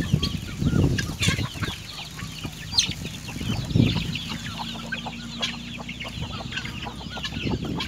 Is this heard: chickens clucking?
yes